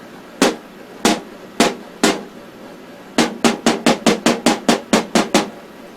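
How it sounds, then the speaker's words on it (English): A hand smacks the back of a vintage electronic device. Four sharp, separate slaps come first, then a quick run of about eleven closer-spaced smacks, each loud and clear with no talk. "Try smacking the back of it."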